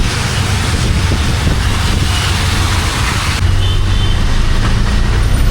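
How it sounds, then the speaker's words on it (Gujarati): Light rain falling on a wet street in Vadodara at night, with city traffic rumbling steadily and continuously throughout, broadband noise that may include wind buffeting the microphone; no one speaks. "હમણાં વરસાદ ચાલે છે, ધીમે ધીમે અને ટ્રાફિક થયું છે"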